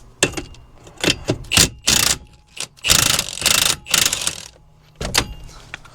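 An air impact gun rattles in short, loud bursts, about eight of them with brief pauses, while driving out pressed-in wheel bearing bolts on a 2004 Chevy Impala.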